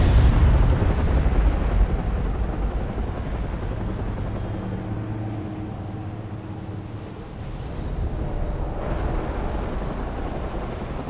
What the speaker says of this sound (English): Guess the fireworks are going off early.